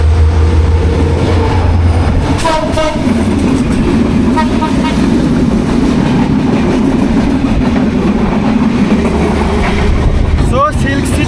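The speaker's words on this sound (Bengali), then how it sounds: "আমাদের ট্রেন এখন আবার এগিয়ে চলছে পঞ্চগড়ের উদ্দেশ্যে" A passenger train on the Dhaka to Panchagarh line rumbles along the rails, a loud continuous roar with rhythmic clatter, people talking over it and a brief squeal near the end.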